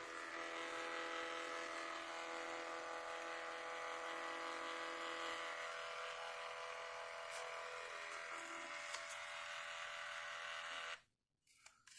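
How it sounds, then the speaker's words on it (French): Mini inkless thermal printer feeding out a photo, a steady close electric whir with a faint tonal hum that runs for about eleven seconds, then cuts off into near silence with a small click. "Là ça va s'imprimer."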